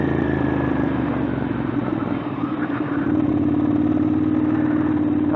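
Ducati Monster 795 motorcycle engine running close by, a steady rumbling idle with mechanical clatter and a slight rise in revs, with no talk over it.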